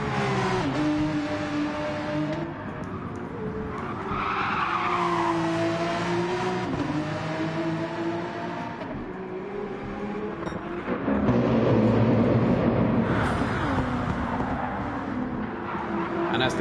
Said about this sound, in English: And as the cars battle up the road